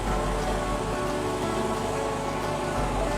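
Potato cutlets frying in oil over medium heat give off a steady, dense sizzle and crackle that stays continuous and even throughout, with no talking.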